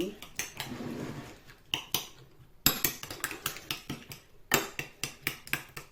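A fork or whisk beats eggs in a bowl for a Thai omelette, giving rapid, bright clinking strokes against the bowl in uneven bursts, close and sharp, with short pauses between runs.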